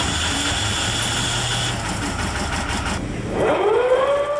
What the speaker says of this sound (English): The coxswain then straps himself in and starts the engine.